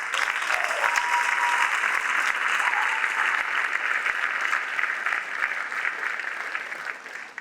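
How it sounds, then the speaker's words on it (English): A school senior recognition night audience gives a sustained round of applause for community presenters, many hands clapping steadily and evenly for several seconds before slowly tapering off. "how about a round of applause for all our community presenters?"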